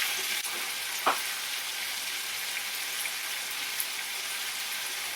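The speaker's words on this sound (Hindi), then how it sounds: "फिर हम इसे कड़छी से हिला लेंगे, उलट पुलट कर 2 मिनट पका लेंगे।" Shahi paneer gravy is stirred with a ladle as it cooks, giving a steady low sizzle with a single clear scrape near the start and one faint knock later; no one speaks.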